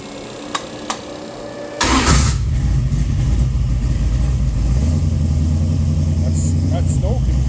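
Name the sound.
Mopar 340 stroker engine with Trick Flow heads starting and revving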